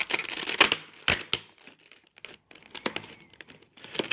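Plastic packaging being peeled and torn off a prepaid Moto G phone box, with sharp crinkling bursts and short tearing rips in uneven clusters, loud and close, no voices.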